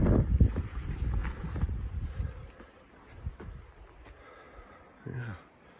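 Strong wind buffets a microphone outdoors in wild hunting country, a loud low rumble that gusts and fades across the stretch, with a brief breathy sound near the end.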